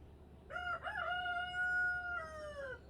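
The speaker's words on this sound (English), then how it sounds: "Even my rooster agree with me." A single rooster crows once, a clear drawn-out call lasting about two and a half seconds, moderately close against a quiet background.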